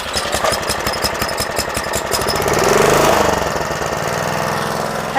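An old petrol lawn mower with a choke, bought as a non-runner, runs loud and close after fuel is added to the carburettor, its engine firing in a rapid rough knock that swells briefly before settling to a steady idle.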